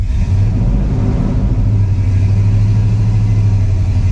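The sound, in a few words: GMC truck engine revving with gas pedal pressed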